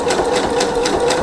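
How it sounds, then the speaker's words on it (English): Sewing machine stitching a cardigan, a close steady mechanical hum with fast rhythmic ticking pulses of the needle running throughout. "I'm going to start stitching."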